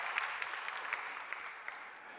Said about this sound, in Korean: 우리 격려 박수 한번 합시다